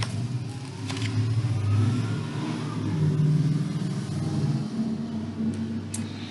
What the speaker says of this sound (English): a car pulled into the driveway